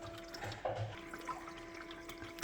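Water trickles and gurgles faintly as a Frigidaire compact ice maker draws it in, with a steady low hum under small splashy bursts.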